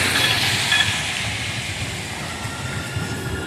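A San Francisco Muni light-rail train rolls in nearby with a steady rumble and airy hiss, loud at first and easing slightly.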